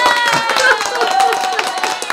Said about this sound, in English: So take the applause, Jenny.